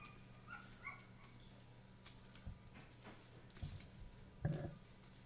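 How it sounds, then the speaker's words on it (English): A puppy outside a poker studio yips and barks faintly in a few short, scattered bursts, distant and quiet against a low room hum. "I heard a puppy barking out there outside our studio"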